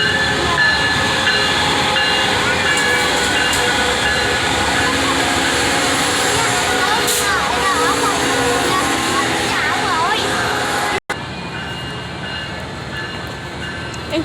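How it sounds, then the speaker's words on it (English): An Amtrak passenger train bound for San Diego rolls past close by, a loud continuous rumble and hiss with squealing wheel tones, briefly cut off near the end before the roar resumes. "Oye, mira, ahí viene el Amtrak."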